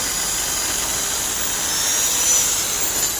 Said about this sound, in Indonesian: menggunakan bor kawat dan sikat kawat.